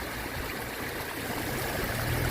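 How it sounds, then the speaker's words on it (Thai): River flowing past a rural spot after rain, a steady, full rushing wash of water that holds even and continuous throughout, with no voices. "คือแม่น้ำไหลผ่านเสียงแม่น้ำนะคะ"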